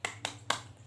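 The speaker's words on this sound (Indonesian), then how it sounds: "kita tepuk-tepuk semangat dahulu yuk" Schoolchildren's rhythmic spirited clapping chant, heard here as three sharp, close hand claps evenly spaced about a quarter second apart, with no voices audible.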